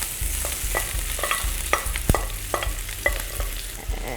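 Cooked tindora (ivy gourd) being stirred in a hot pan for a North Indian khatti meethi sabzi, with steady sizzling and frying under repeated scraping strokes of a spoon against the pan.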